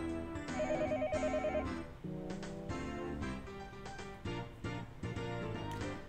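A telephone rings with a repeating electronic melodic ringtone, steady and fairly close, playing alone without any voices.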